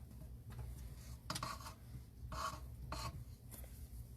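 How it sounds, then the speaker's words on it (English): A utensil scrapes roasted vegetables in a bowl, in several quiet, separate rasping strokes at close range. "Oh, I gotta scrape this again."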